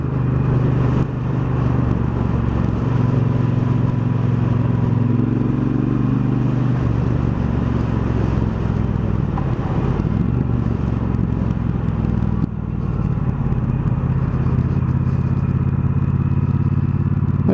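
A 2018 Triumph Bonneville Bobber's engine while riding, a loud, continuous low rumble with wind roar, the pitch shifting slightly as the throttle changes, heard close from the rider's position.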